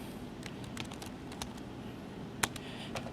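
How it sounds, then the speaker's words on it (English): Typing on a computer keyboard, sparse irregular clicks and taps, quiet and close, with one sharper keystroke near the end and a faint room hum underneath. "Type up here, you need to type your name."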